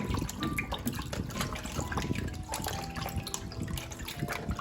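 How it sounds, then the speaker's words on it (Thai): Water splashing and trickling as carp are rinsed with vinegar in a home kitchen, a steady close, busy stream of liquid sounds with small drips and handling noise, no talking. "เห็นไหมนี่เราล้างด้วยน้ำส้มนะ"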